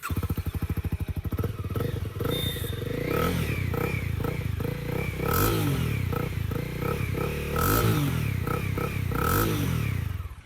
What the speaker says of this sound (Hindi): तो कुछ इस तरह का एग्जॉस्ट नोट मिलता है विद दिस होंडा CB300R